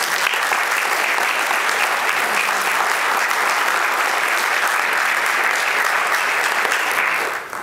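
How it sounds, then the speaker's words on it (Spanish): An audience at a book presentation bursts into loud, sustained applause, dense clapping that holds steady for several seconds before tapering off at the very end. "pido un abrazo y un fuerte aplauso para Armando"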